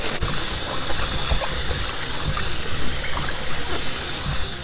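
Tap water running steadily as salad vegetables such as pepper and onion are washed at a kitchen sink, a close continuous hissing splash with faint knocks of produce underneath.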